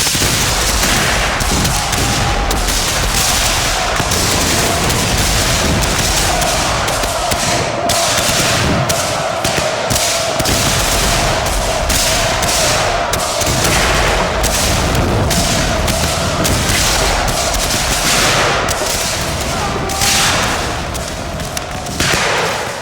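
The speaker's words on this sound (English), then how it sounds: "This volley fired by not only Jackson's company, but by Colonel Fuller's entire brigade" A continuous barrage of rifle volley gunfire from a brigade in a Civil War battle, dense overlapping cracks and booms for over twenty seconds, loud and sustained with no pauses.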